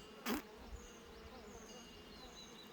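Native Korean honeybees hum around their hive in a soft, continuous buzz with a few brief louder passes of individual bees near the listener, set against quiet outdoor background.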